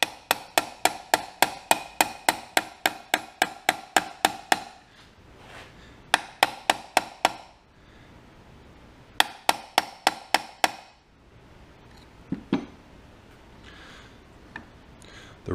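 A hammer drives a pin out of a swash plate shaft on a Cub Cadet dozer build. Loud metallic blows fall in quick, rhythmic runs: a long series of strikes, then shorter bursts and a few spaced final taps, with no talking.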